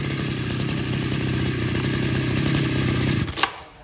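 A Mitsubishi TL brush cutter engine pull-started and running, a loud steady buzzing two-stroke drone that holds for about three seconds, then cuts out abruptly with a brief clatter.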